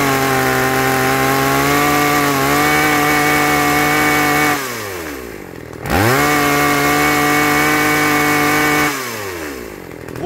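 A chainsaw engine, freshly tuned at the carburetor, runs loud and close at a steady high rev, twice dropping and sliding back to idle before revving up again.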